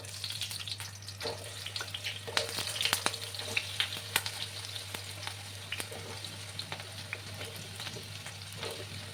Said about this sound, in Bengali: তেলটা গরম হয়ে গেছে এবার আমি আলুগুলো একে একে দিয়ে দেবো